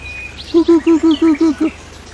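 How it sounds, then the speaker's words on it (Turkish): Outdoors on a rural plot in Gönen, Balıkesir, a bird sings a quick series of seven even, whistled notes, loud and close against a quiet background. "Güzel olur böyle tam böyle kuş sesleri."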